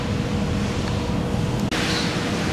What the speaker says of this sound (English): The puffins also have a nice little waterfall here.